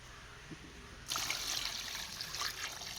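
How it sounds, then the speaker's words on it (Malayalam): Water pours into a pan of chicken roast in a soft, steady splashing stream that starts abruptly after a quiet second and continues close by. "നമുക്ക് ആവശ്യത്തിനുള്ള വെള്ളം ഒഴിച്ചു കൊടുക്കാം"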